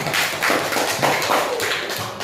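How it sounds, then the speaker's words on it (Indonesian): Short burst of classroom applause, a group clapping steadily at close range for a couple of seconds with little talk. "Kita beri tepuk tangan untuk kita semua"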